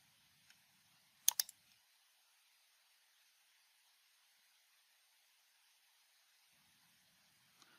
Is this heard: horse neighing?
no